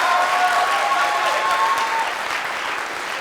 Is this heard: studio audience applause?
yes